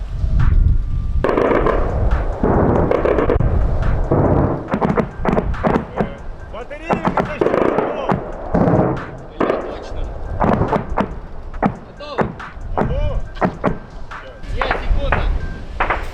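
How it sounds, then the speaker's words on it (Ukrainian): Sharp bursts of automatic rifle fire crackle repeatedly in uneven volleys near Bakhmut, with heavier artillery booms mixed in and voices talking throughout. "Оце автомати стріляють."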